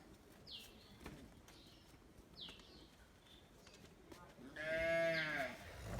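A dairy cow gives one loud, drawn-out moo near the end, with faint bird chirps and steady outdoor background noise before it.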